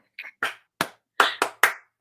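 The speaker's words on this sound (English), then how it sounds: "One more clap." Six sharp hand claps at close range, the first softer and the rest crisp and evenly spaced, in an otherwise quiet room.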